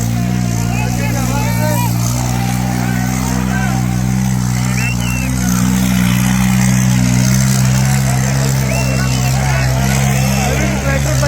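A tractor engine labours loudly and steadily at a tractor trolley-pulling contest, its deep continuous drone filling the scene, with crowd voices and talk mixed in.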